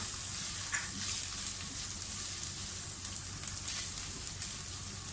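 Chopped onions and garlic frying in a pan for keema macaroni give off a steady, even sizzle with faint crackles. The sound is close and continuous, and nobody speaks.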